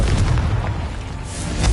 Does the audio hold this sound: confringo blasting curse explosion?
yes